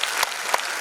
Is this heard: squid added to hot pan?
no